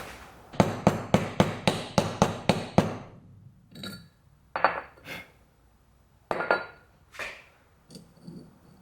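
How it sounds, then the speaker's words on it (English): A hammer taps on a Subaru intercooler pipe, first in a quick run of about nine sharp, ringing strikes, then several slower, spaced blows. "And then we'll just tap it on with the hammer and she should be good."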